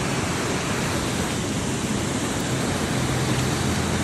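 Fast-moving floodwater rushes through San Pablo creek during an atmospheric river, a loud, close, continuous broadband roar with no pauses and no voices over it.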